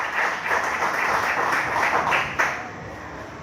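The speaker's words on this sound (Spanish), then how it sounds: "Vamos a brindar un fuerte aplauso a nuestro Dios." A church congregation claps together in a sustained burst of applause that fills the room, fading near the end before a sharp tap closes it out.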